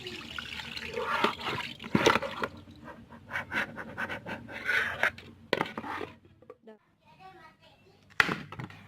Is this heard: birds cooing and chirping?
no